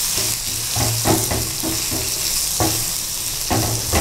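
Garlic fries in hot oil in a pan for a gongura drumstick curry, giving a steady close sizzle as a spoon stirs it in repeated scraping strokes about every half second.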